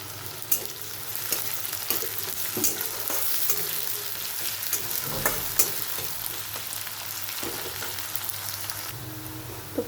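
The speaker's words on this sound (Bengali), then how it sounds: "তো পেঁয়াজটা ভাজা হয়ে গেছে" Chopped onions with a pinch of sugar fry in oil, an even close sizzle punctuated by stirring scrapes and a few sharp utensil knocks against the pan, no voices.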